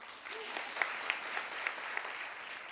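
Modest applause from an audience at a Tulane campaign launch event, steady clapping for under three seconds with a few sharper claps standing out, fairly distant and moderate in level.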